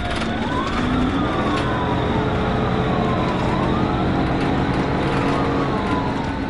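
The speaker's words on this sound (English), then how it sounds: "When the emergency lights and sirens were activated" A police car's wailing siren sweeps up and down steadily during a high-speed pursuit, over a constant low engine and road rumble, loud and close throughout.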